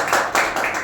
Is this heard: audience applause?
yes